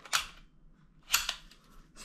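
A Sig Sauer P320 pistol is dry-fired on an empty chamber: two short, sharp mechanical clicks about a second apart, close and quiet in an otherwise still room.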